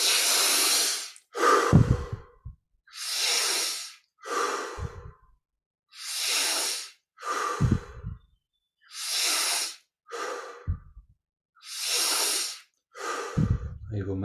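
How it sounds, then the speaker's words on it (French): Slow, deep breathing during a meditation and chant session: long loud inhales and exhales alternate in a steady rhythm about every two seconds, close to the microphone, some ending with a soft nasal snort. "On augmente maintenant l'amplitude de la respiration."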